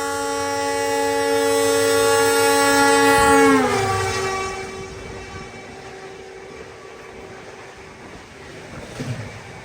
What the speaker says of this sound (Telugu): ఇప్పుడు వెళ్ళింది కదా ఏ ట్రైన్ తెలుసా? ఢిల్లీ సరాయ్ రోహిల్లా నుంచి బికనీర్ వెళ్ళే సూపర్ ఫాస్ట్ ఎక్స్ప్రెస్. అది మనకి హాంకింగ్ వచ్చింది.